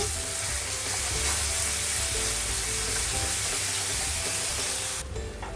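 Onion paste fries in a pan with a steady, close sizzle and hiss, continuous and fairly soft throughout.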